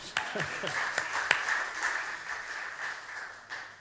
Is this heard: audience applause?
yes